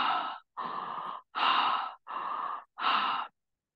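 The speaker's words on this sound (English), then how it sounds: "You might want to breathe more, and then you could just start breathing out." During a breathwork class, a person makes five vigorous, breathy exhalations through the mouth in a steady rhythm, each lasting about half a second. The breaths are close and moderately loud, with short silent gaps between them.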